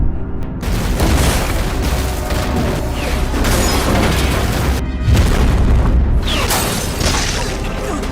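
Loud action-film gunfire and blasts as a rescue team shoots at targets, dense booming bursts and rattling shots running continuously at close range with no pauses.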